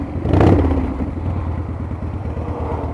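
A carbureted 1997 Springer Softail motorcycle idles close by with a loud, lumpy low rumble, swelling briefly early on before settling into a steady uneven throb.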